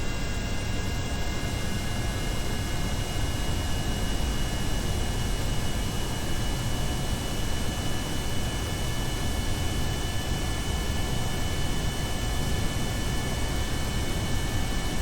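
A plane engine in the video game Kerbal Space Program gives a constant, even jet roar with a steady whine that holds unchanged throughout, with no voices.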